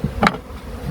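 Honey bees buzz faintly around a beehive built in a drain, with a brief louder burst as one passes near, in a short clip without speech.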